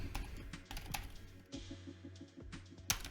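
Rapid clicking of keys on a computer keyboard, close and fairly quiet, in uneven bursts with brief pauses and a sharper keystroke near the end.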